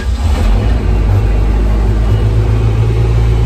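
A Yamaha 9.9 outboard engine on a 1990 Caulkins 22-foot Bartender boat runs loud and close, with a steady, continuous mechanical drone and no voices.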